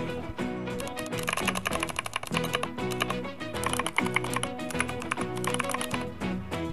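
A mechanical keyboard sound effect with purple crystal switches, rapid dense clacky typing at steady speed, close and loud for several seconds without speech.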